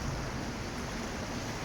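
Ocean surf washes onto a New Zealand beach, a continuous rumbling roar of waves mixed with wind buffeting the microphone, close and steady without talk.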